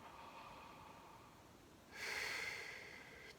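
A single slow breath taken as a deliberate breathing exercise, faint and close, with a soft airy stretch followed by a stronger, louder rush of air near the end, no talking.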